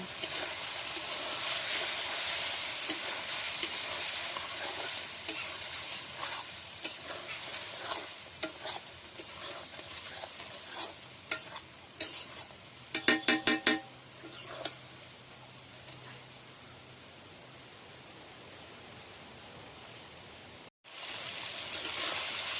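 Eggs being stir-fried with spices in a pan for an egg kosha dish: a soft continuous sizzle with scraping stirring strokes, a cluster of sharper clinks midway, then a brief pause before the sizzle resumes.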